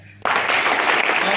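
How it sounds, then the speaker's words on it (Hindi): Sudden burst of audience applause at a seminar in Jind, starting abruptly after a brief quiet moment and holding as a loud, dense, steady clapping from a large crowd. "जोरदार तालियां सबके लिए"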